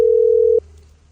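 A single steady electronic telephone tone sounds loudly for about half a second and then cuts off, leaving quiet low hum.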